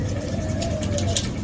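A pigeon or dove gives a short, soft coo over a steady, noisy background.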